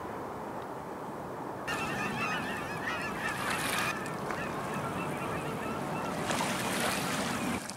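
A flock of geese honks busily close by on a lakeshore, the calls rising in two louder bursts over a steady wash of lapping water.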